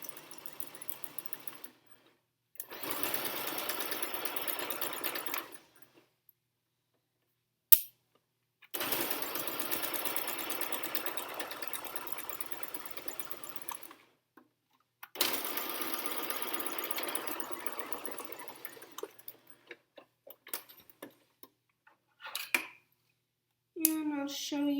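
A sewing machine stitches a fabric pee pad in long steady runs, its fast mechanical whir rising and halting over and over, with a quiet pause or brief handling noise between each burst.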